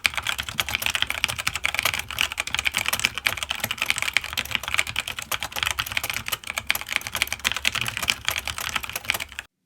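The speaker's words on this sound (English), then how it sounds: "It's a satisfying click that recoils significantly from the pressure needed to press the keys." Keys clatter steadily on a Logitech G PRO League of Legends edition mechanical gaming keyboard. Dense, continuous clicky typing runs close up and at an even pace, with no voices.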